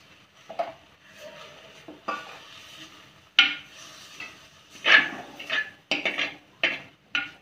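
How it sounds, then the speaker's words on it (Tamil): Drumstick leaves and grated coconut stirred together in a pan with no oil, a spatula scraping and clinking against the metal in repeated rubbing strokes, close and clear. "இப்போ இதெல்லாம் நம்ம மிக்ஸ் பண்ணிடலாம்."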